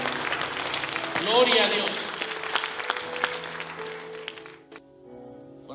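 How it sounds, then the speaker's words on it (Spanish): Church congregation clapping under a preacher's voice and an exclamation, a moderate patter of hands that swells briefly then tapers off as the room quiets. "Se le va a aplaudir, apláudele bien, amado."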